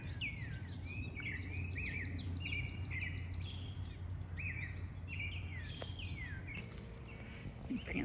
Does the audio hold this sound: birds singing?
yes